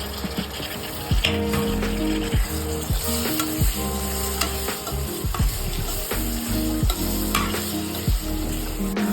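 Tomatoes frying in oil with red chili powder for a spicy misal: steady loud sizzling with repeated scraping stirs of a spatula at an uneven rhythm, close up, no talking.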